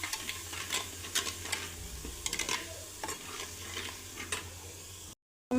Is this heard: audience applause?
no